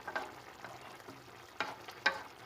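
Rice fries in oil in a pot during Somali home cooking, a faint, soft sizzle with a few brief scraping stirs, heard alone.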